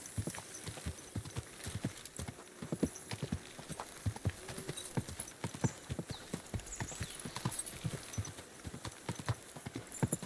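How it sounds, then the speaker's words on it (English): Horse hooves clip-clopping in the video game Kingdom Come: Deliverance II, a steady rhythmic trot of distinct close hoof strikes, with a faint whinny and light ambient noise beneath. "Easy, good horse."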